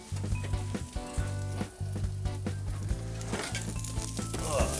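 Cauliflower roasting in a pan sizzles loudly as it is flipped, with repeated metallic scrapes and clatters of utensil against pan over a constant hiss.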